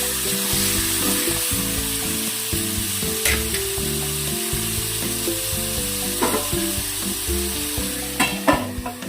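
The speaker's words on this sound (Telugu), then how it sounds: "మూత పెట్టి ఒక 5 నిమిషాలు మగ్గించుకుందామండి." Chicken fry cooks under a lid in a pan with a steady, close sizzle, while tonal background music plays over it and a few clicks break through near the end.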